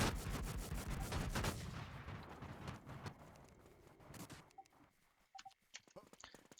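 Gunfire in a shooting video game: dense, loud bursts of rapid shots for the first few seconds, thinning into scattered, fainter shots and clicks toward the end, with no speech.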